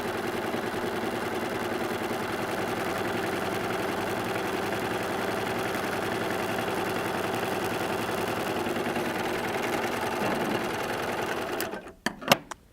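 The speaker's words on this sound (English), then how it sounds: "I'm just going to keep stitching until I have all my pin tucks in." A Baby Lock serger runs continuously while stitching pin tucks for a pillow, a steady fast mechanical whir lasting about eleven seconds before stopping abruptly, followed by a few light clicks and handling sounds.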